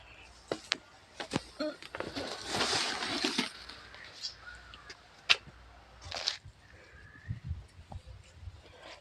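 Water scooped from a drum with a can and poured into a tub for farm animals: uneven splashes and sloshing bursts with brief pauses between pours, close and moderately loud.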